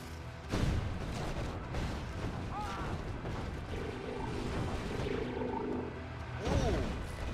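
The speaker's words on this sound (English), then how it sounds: "Oh, toxic strike coming in." Toxic strike explosions in the Mental Omega strategy game, a couple of heavy booming blasts with rumbling and crashing between them amid busy battle noise, with a voice briefly talking.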